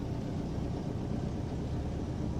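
Simulated Piper PA-18 light aircraft engine idling at 1000 RPM on the ground in X-Plane 12, a steady, continuous low drone with even rumble and no talk over it.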